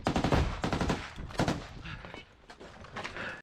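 Rapid bursts of gunfire crackle in quick succession during the assault on Klishchiivka, Ukraine, followed by scattered fainter shots echoing at a distance.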